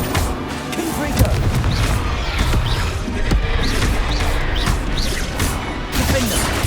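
Confringo blast spell exploding in Hogwarts Legacy combat, a dense roar of booms, crashes and impacts layered over continuous battle noise, with a sharp hit standing out early and another near the middle.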